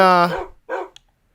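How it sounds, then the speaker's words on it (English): A dog barks twice nearby, a loud harmonic bark followed by a shorter, softer second bark and a small click, then silence. "came down and started barking at me"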